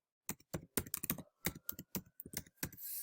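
Close, crisp keystrokes on a computer keyboard come in quick, uneven bursts as an email address is typed into a signup form, with brief pauses between clusters and no voices.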